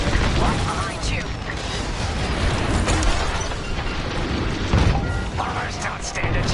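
Destroyed bombers explode during a Star Wars Squadrons space battle, a dense run of loud blasts, bursts and mechanical crashes layered over constant rumbling engine noise, with voices speaking throughout.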